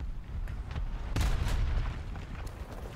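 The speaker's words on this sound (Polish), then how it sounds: "Na wydrę strzał trafiłem w mur" Tank cannon shot in War Thunder on the Port Novorossiysk map: one loud, sharp blast with a deep rumbling tail at about a second in, and softer thuds of distant fire around it.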